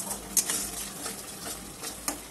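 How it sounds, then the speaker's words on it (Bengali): A pan of masala with kasuri methi being stirred for a Bengali boal fish jhal, giving soft continuous scraping and a faint sizzle, with a few sharper clinks of the spoon against the pan. "কাসুরি মেথিটা দিয়ে ভালো করে এটাকে নেড়ে নেব"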